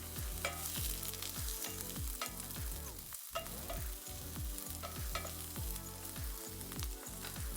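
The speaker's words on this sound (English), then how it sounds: "We're just gonna saute that until fragrant." Onions and celery sizzle steadily in olive oil, with repeated rhythmic stirring scrapes in the pan and no talking.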